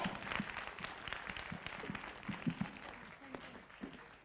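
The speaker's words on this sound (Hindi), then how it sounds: "तालियां रुकनी नहीं चाहिए, ये फंक्शन ही तालियों का है" An audience claps at a leadership training function as directors are called to the stage, though the clapping is faint and thin, with some scattered louder claps and background noise.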